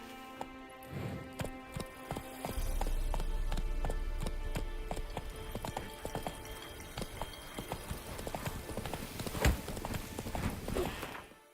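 Roach, a horse in The Witcher 3 game, gallops with steady rapid hoof clip-clop on the ground, close and loud, with occasional snorts and game sounds layered over it.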